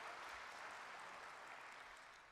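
A church congregation at an autumn revival meeting applauding: steady, sustained clapping from a large crowd, fairly distant, fading slightly toward the end.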